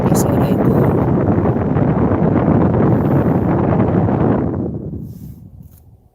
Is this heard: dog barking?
no